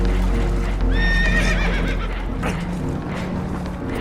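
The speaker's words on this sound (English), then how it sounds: "Horses are spooked" Spooked horses in the Red Dead Redemption 2 video game give a loud, shaky whinny near the start, over continuous rumbling background noise and faint hoof clatter.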